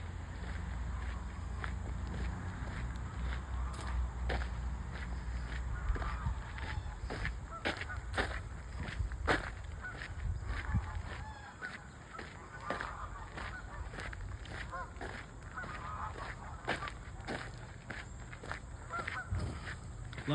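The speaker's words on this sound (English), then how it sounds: "Oh yeah, there's all the ducks and the geese." Geese honk repeatedly in short bursts at a park duck pond over a steady outdoor rumble, with scattered calls near and farther off and occasional clicks.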